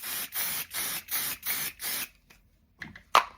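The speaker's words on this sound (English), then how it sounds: "This is really old Crafter's Companion stick and spray." Old Crafter's Companion stick and spray repositionable adhesive sprays in five quick hissing bursts, a pause, then a faint rattle and a sharp click of the can.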